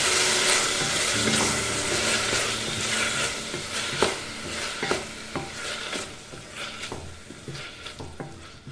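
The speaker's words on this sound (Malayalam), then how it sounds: "ഒരു തക്കാളി ഇട്ട് കൊടുക്കാം. മിക്സ് ചെയ്യാം." Tomato stirred into a sizzling potato-cauliflower curry in a pan, a steady frying hiss with scraping spoon strokes and a few sharper clinks, close and alone.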